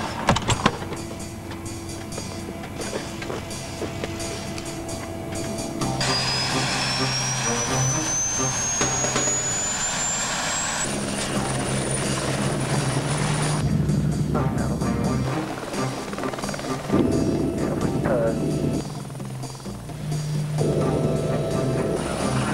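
Rotor and engine noise of a helicopter drone steadily throughout, with a rising whine and shifting intensity as it passes, voices faint beneath.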